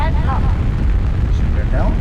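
A deep, steady rocket engine roar from a launch in a space-flight video game, heavy and rumbling throughout with no break. Faint voice-like tones rise briefly over it.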